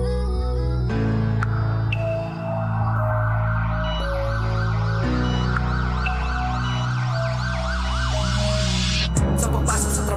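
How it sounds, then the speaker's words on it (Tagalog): Ambulance siren woven into a song, a steady wailing tone sustained over layered music that holds loud and constant throughout, with the siren sweeping continuously above the backing. "So ayun, may ambulance tayo naririnig."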